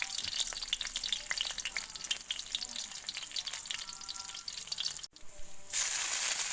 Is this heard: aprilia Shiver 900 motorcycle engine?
no